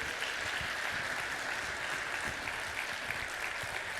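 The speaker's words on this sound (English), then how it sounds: "a big round of applause" A conference crowd applauds after a keynote, a steady, even wash of clapping that sounds somewhat distant and fills the whole stretch without talk.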